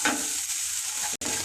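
Soya chunks (Nutrela) fry in a little oil with salt and turmeric, giving a steady, close crackling sizzle broken by a brief stirring pause.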